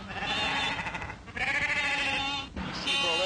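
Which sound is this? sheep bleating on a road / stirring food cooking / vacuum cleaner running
sheep bleating on a road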